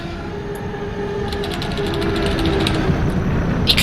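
Class 37 diesel railcar from a driving simulator game, rumbling steadily with low engine drone and faint periodic clicking, a continuous near mechanical bed throughout.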